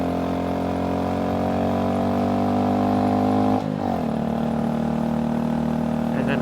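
A Honda Grom motorcycle engine drones steadily on a steep canyon climb, its pitch sagging as it bogs down partway through under load, with continuous wind rush over the recording.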